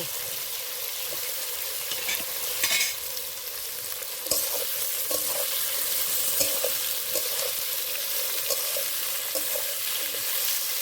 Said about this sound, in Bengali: একবারে হবে না বন্ধুরা দুবার করে আমি এসবটা ভেজে নেব